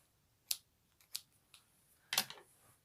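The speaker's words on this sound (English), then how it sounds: "cut the yarn" Scissors snip through crochet yarn while finishing baby booties, giving several short, sharp cuts spaced out over a few seconds, close and fairly quiet, with no talking.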